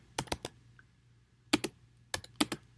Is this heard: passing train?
no